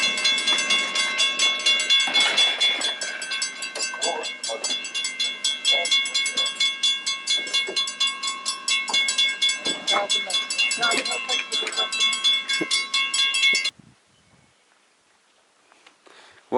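A train rolls past close by with a steady rhythmic clatter of wheels over rail joints, loud and continuous, then cuts off into near silence.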